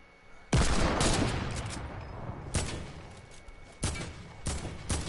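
Bursts of automatic gunfire ring out in a console shooter video game, several loud, rapid fusillades separated by short gaps, with no talking.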